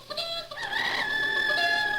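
A hen clucks and calls in a rising, steady voice for about two seconds, heard close and alone with no talking.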